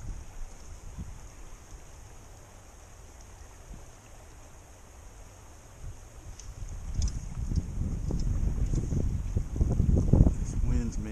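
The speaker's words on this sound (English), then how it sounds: "this wind's making it hard." Wind gusts by a river in the Sierras during fishing: a soft steady rush that swells into loud, buffeting microphone wind noise over the second half.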